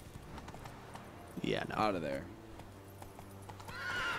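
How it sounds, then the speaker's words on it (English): A horse in the Witcher 3 video game whinnies loudly in a drawn-out neigh amid clip-clopping hooves, with a person talking briefly over it. "So I guess I'm riding the horse up the stairs."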